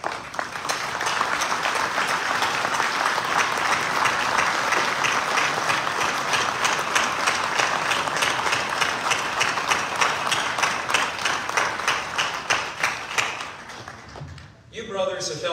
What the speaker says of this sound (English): join me in a round of applause for the past state deputies